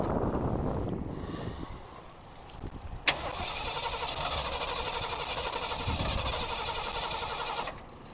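A rat rod engine fitted with a new carburetor runs roughly, sags, gives a sharp pop, then settles into a steady nearby idle before cutting out near the end.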